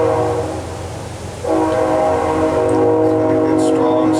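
A Canadian National Railroad train rolls past with a loud, steady rumble, then its horn blasts from about a third of the way in and keeps sounding strongly to the end, with a voice briefly audible.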